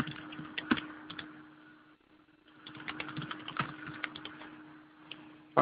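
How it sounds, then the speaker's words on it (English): Password being typed on a computer keyboard, soft, close key clicks in irregular bursts with a brief pause midway over a faint room hum, ending in a louder bump, with no speech. "It takes me a moment to type it"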